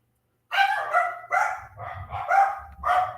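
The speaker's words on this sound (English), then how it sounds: "dogs start to bark, don't they, just as you're going live" Several loud, close dog barks arrive in quick succession after a brief silence, ringing out in a domestic setting with no talking over them.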